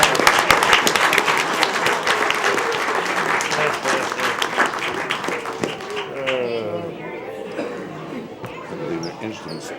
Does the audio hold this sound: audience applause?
yes